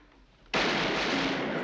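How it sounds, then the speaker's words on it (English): Gunfire in the comedy mystery film Murder by Death: after a quiet, murky stretch, a sudden loud, harsh burst erupts and holds as a dense, sustained roar of noise to the end, with no talk over it. "Gunshots, Sam. Gunshots, Dickie."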